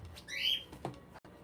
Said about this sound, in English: the birds are getting talkative now too